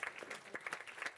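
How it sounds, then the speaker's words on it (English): A conference audience on global lead exposure research giving a brief round of applause, sparse scattered claps from a modest crowd, fairly faint. "so give him a round of applause"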